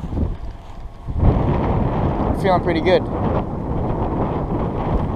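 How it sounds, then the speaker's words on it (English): Wind buffets the microphone in low, gusty rumbles while a person talks over it outdoors while fishing in Florida. "It's a little windy, not ideal,"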